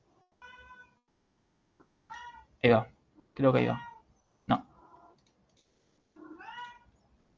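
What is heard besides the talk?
domestic cat meowing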